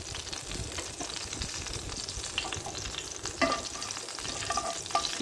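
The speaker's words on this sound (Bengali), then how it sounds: "জিরা আর পাঁচফোড়ন ভালোভাবে ফুটে উঠছে।" Cumin seeds and panch phoron spices sizzle steadily in hot oil in a pan, a close, continuous crackling fry with no talking.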